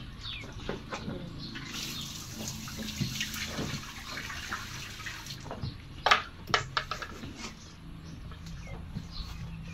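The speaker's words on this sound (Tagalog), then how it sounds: "Isang tabo lang na tubig." Water splashes and trickles from a poured scoop, with a broad wash of noise and a few sharp splashy bursts near the end.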